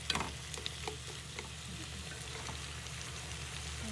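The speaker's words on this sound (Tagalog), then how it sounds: "Haluin lang" Chicken in a sweet soy-based sauce sizzles in a pan while being stirred, a steady low frying hiss with a few soft scraping strokes near the start, close and fairly quiet with no talking.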